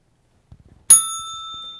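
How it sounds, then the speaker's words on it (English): A trivia contestant's bell rung once, a single bright ding that rings out and slowly decays, preceded by a few faint soft knocks, loud and close in an otherwise quiet room. "You have rung the bell, sir."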